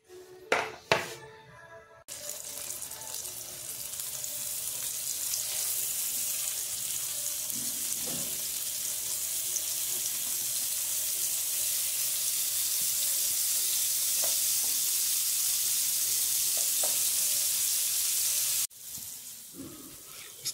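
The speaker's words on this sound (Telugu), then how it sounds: "సో వీటిని లైట్గా ఫ్రై చేసుకున్నాం" Fish pieces marinated in salt, chili and turmeric fry in oil in a pan, giving a steady, loud, hissing sizzle that runs nearly twenty seconds, with a few clatters at the start and a drop near the end.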